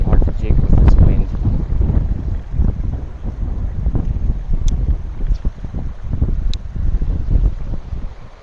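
Steady wind buffets the microphone on a river during ultralight fishing, a continuous low rumbling roar with gusts rising and falling throughout, with a few faint clicks and light handling noises mixed in.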